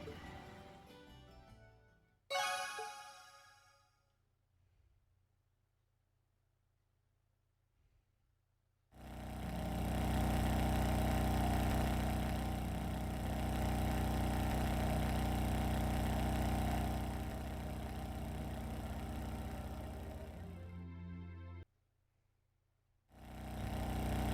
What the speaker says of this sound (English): About the hum of the engine.